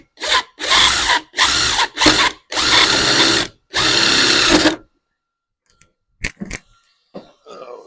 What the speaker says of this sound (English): we're just gonna run a drill through